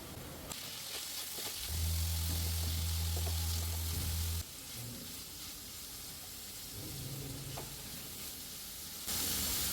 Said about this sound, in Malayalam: ഇതിലേക്ക് നമ്മൾ വേവിച്ച് വെച്ചിട്ടുള്ള പടവലങ്ങ ഇടാം